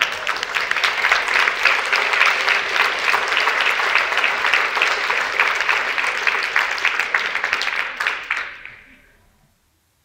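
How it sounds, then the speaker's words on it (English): An audience at a forum presentation claps in a dense, steady burst of applause that holds for about eight seconds, then fades out quickly. "Now, I think we clapped"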